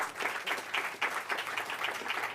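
Audience applause for a governor at a bill-signing event, a steady wash of clapping at moderate distance with no talk over it.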